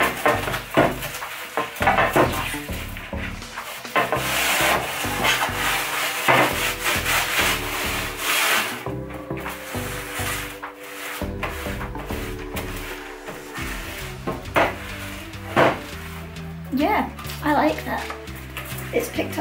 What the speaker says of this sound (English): I'm going to take my sponge and I'm going to go over this one again.